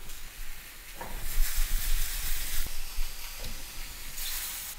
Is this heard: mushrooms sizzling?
yes